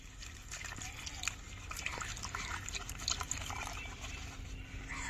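Water poured into semolina batter for steamed bhapa pitha and stirred, a close wet sloshing and trickling that runs continuously for a few seconds, with faint voice in the background.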